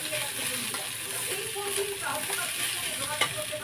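Cashews and pistachios stirred as they fry in a pan, a steady soft sizzle with faint scraping of the spoon, close and continuous for a few seconds.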